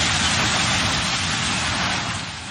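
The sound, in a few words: mechanical excavator demolishing the National Theatre building, Tirana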